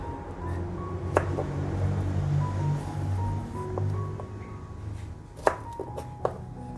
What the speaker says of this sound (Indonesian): Setelah kita kupas kulitnya, kita potong dulu ujungnya.